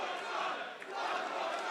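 A large wrestling crowd at Adelaide Oval, South Australia, roars and cheers in a dense, continuous wash of voices, loud and sustained with a brief dip midway.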